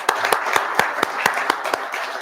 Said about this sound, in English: We'll give it all a round of applause